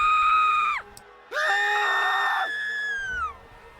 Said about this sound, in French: des hurlements retentissent.